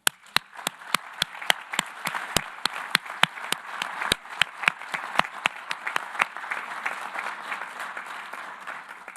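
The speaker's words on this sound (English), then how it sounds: "let us please once again applaud the Palestinian people" Sustained applause from an audience at a high-level United Nations commemorative event, a dense wash of many hands with sharp individual claps cutting through, steady and fairly loud for the whole stretch.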